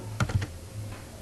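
A few quick keystrokes on a computer keyboard, three or four close, sharp clicks in a short burst, then quiet.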